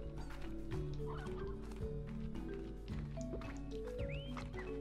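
A hen-like creature in the video game Slime Rancher gobbles and clucks amid dense, steady game ambience with layered tones and chirps, with no voices.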